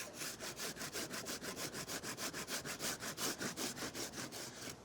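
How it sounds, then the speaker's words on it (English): A Surform rasp scrapes excess plaster off the back of a rubber mold for a miniature breakaway building, making a steady run of about two dozen even back-and-forth rasping strokes, close and fairly soft, with no voices. "take the Surform, and we're going to very gently go over the surface here and scrape off all the excess"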